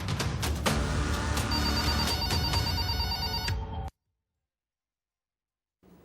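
A telephone rings insistently in a news report, a loud repeated ringtone running for about four seconds before cutting abruptly to silence.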